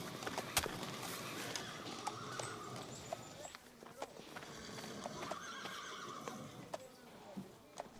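A stallion in a period film neighs and whinnies with loud clip-clop hooves, restless stamping and scattered crowd voices and speech around it, the whinnies rising clearly above the busy background.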